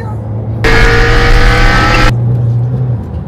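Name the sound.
sports cars driving past on the road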